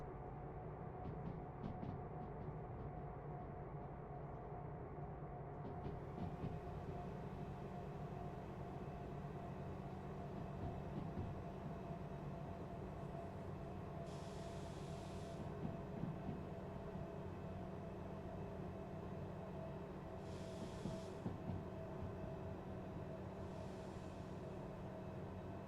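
A freight train hauling steel products in a railroad simulation game, with a steady low rumble and engine drone that runs the whole time and a few brief hissing bursts over it, and no talk.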